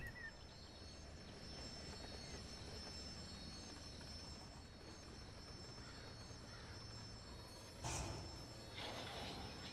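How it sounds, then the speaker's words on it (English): A train in Run 8 Train Simulator rolls steadily with a faint, high metallic squeal of a dragging brake on a car not fully released, over rumbling wheels, and a brief louder clatter near the end. "Wait, why do I hear a dragging brake?"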